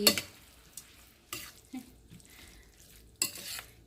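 A spoon scrapes and knocks through yellow cucumber chutney in a pan in three or four brisk strokes, separated by quiet gaps with a faint soft background hiss.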